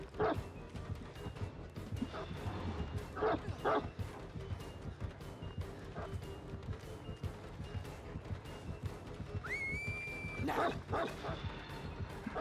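A dog in the video game Dead by Daylight barks and yips in short, scattered bursts over busy game noise, with faint talk underneath.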